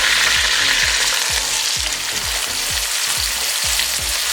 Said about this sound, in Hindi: अब इसमें चने ऐड कर देंगे